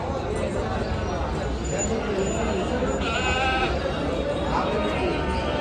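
Goats bleating repeatedly at a large goat, sheep and poultry market in Maharashtra, several calls rising over a dense, steady crowd murmur and people talking nearby.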